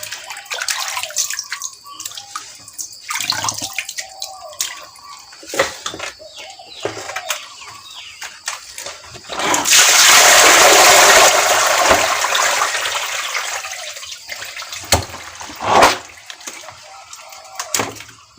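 Water splashes and sloshes in a basin while large mackerel are rinsed and the water is changed, with scattered small knocks and drips before a loud, sustained splash about midway.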